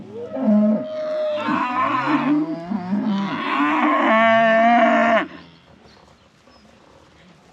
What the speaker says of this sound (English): it is moving time for the heifers and they are very excited about it